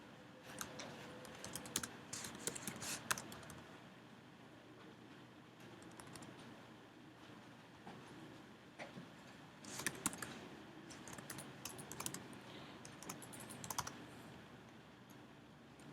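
Code is typed on a computer keyboard in quiet bursts of soft key clicks, separated by short pauses. The taps cluster densely in a few busier runs against a faint background hum, and no one speaks.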